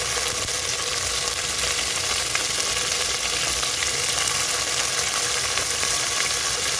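Curry leaves frying in oil for a fish curry, a continuous even crackling sizzle at moderate loudness with no talking.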